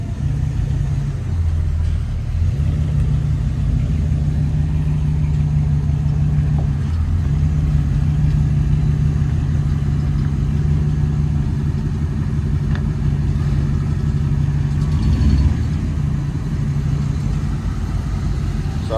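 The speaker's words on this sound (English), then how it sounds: "we got the Dodge truck" A Dodge 4x4 pickup truck sits with its engine idling, a steady low rumble that holds evenly and fairly close, with a slight swell near the end and no voices.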